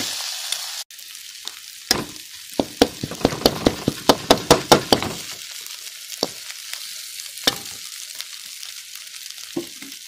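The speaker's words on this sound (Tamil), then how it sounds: "முட்டையோட ஊற்றினோடனே இனி அவ்வளோதான் இதை நல்லா கிண்டி விட்டுறலாம்" Egg parotta fries in a hot pan with a continuous sizzle, while a burst of rapid, sharp spatula knocks and scrapes clusters in the middle. Scattered single strikes follow, close and loud, with no talking.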